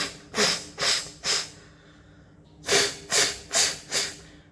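During a jala neti nasal rinse with a neti pot, water is forcefully blown out through the nostrils in a rhythm of seven sharp breathy blasts, three together, a short pause, then four more, close and loud.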